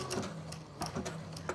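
A sewing machine zigzag stitches around an appliqué motif on base fabric, running slowly and quietly up close with a soft, regular mechanical ticking and rattling rhythm.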